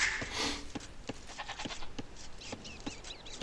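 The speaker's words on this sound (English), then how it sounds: "Okay, I'm starting to find my sheep." Sheep bleating in the Age of Empires 2 real-time strategy game, several short bleats and clicks over game ambience, moderately loud with no talk.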